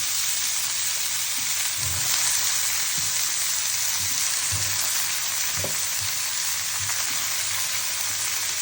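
Papaya frying in a pan for a Bengali papaya bhaji, with a steady, close sizzle throughout and a few soft stirring knocks now and then.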